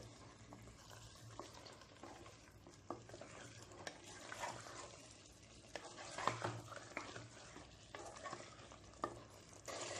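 Raw mango and mutton gravy being stirred in a pan over medium flame for Hyderabadi kairi gosht, a steady scraping and sizzling texture with irregular clinks of the spoon against the pan, close and continuous with no talk.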